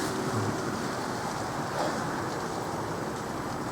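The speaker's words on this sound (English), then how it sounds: "Right on cue, the biggest gust of wind you could imagine." A strong gust of wind roars steadily and loudly outdoors with a broad, rushing hiss and a slight swell partway through, no voices present.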